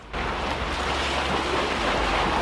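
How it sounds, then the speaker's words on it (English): Ocean waves surging as the tide rises, a steady broadband wash of surf with wind buffeting the microphone, close and continuous after a brief quiet start. "Fish leap through the ocean waves again and again as the tide rises."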